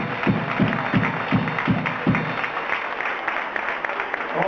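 Applause in a hall for the co-founder and first drummer of a Canarian rock band, at a 2011 tribute at La Ballena; a steady crowd clatter with a few thumping beats early on.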